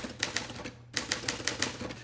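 Manual typewriter keys strike in a steady, solid rhythm of sharp clacks, close and fairly loud, with a brief pause before the typing resumes; no one speaks.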